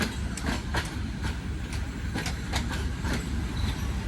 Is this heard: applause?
no